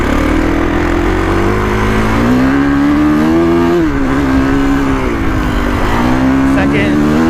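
A 2021 Kawasaki KX450X dirt bike engine revs hard and continuously in first gear, loud and close, its pitch climbing and dipping as the throttle rises and eases.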